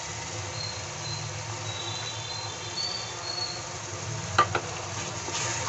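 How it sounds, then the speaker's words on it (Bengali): Spices sizzle in a pan while being fried for a chicken curry, with whisked yogurt just added. The frying hiss is steady and low, and a couple of brief clinks from stirring come near the end. "আর একটু ভেজে নেব।"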